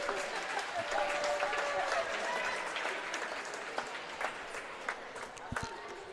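A home crowd at a high school wrestling meet claps steadily for a wrestler, the applause filling the gym and slowly thinning, with a voice talking over it.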